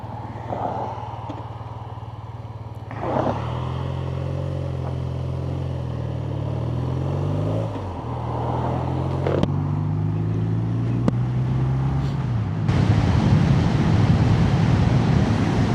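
A BMW R12 nineT motorcycle being ridden on an autumn road, with its engine note rising and falling through gear changes and strong wind rush building late on, loud and close.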